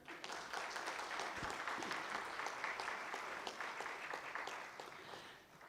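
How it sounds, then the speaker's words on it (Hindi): Audience applause at a Hindi poetry event, steady dense clapping from a crowd that holds evenly at moderate level throughout, then eases slightly at the end. "आप ताली बजा दीजिए"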